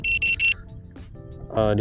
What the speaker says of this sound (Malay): So aku pasangkan buzzer kat sini untuk aku monitor dia punya voltage.